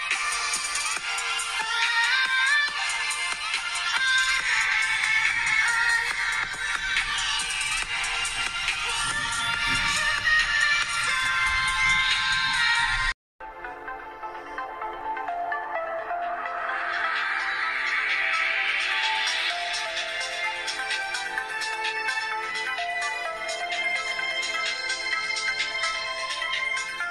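A ringtone plays through the speaker of a Xiaomi Mi8 phone, a bright, steady melodic tune, loud and continuous, cutting off briefly midway before resuming.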